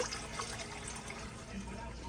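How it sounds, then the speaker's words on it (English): Water pours steadily into a pot for cooking ramen, a soft continuous rushing fill heard faintly and alone. "we're gonna add some water"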